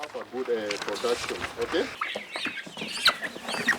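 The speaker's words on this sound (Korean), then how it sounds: "센터에서 분양되는 닭은 케냐의 토종닭을 개량한 우량 품종으로 6개월이 지나면 달걀을 생산할 수 있는 성닭이 됩니다." A flock of improved Kenyan native-breed chickens clucks and murmurs close by, with overlapping short repeated clucks and a few sharper calls forming a busy, continuous farmyard chatter.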